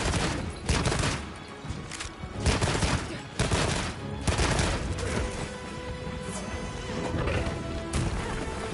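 A heavy bowgun fires normal ammo in Monster Hunter Wilds, a loud string of blasting shots in uneven bursts with crashing impacts between them, continuing densely across the whole stretch.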